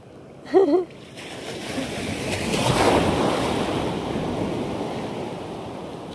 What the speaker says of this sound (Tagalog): Pero lalaki ng alon eh